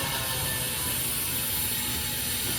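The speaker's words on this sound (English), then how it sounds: "I think you can hear some noise. That's from down there. They are building new hotel." Steady, dense rumble of hotel construction from a distance below, heard from a hotel balcony at the Waldorf Astoria Dubai Palm Jumeirah, a continuous broadband wash with no distinct voices.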